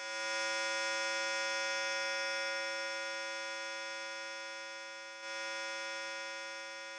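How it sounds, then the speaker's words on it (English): A synthesized square wave drones as a steady, buzzy tone rich in harmonics, sounding continuously for about seven seconds with a brief dip in level near the end. "Now let's listen to a square wave."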